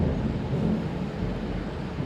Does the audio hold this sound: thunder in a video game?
yes